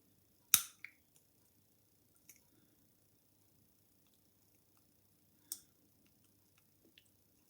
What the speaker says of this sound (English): That back lever is just, you hear it clicking.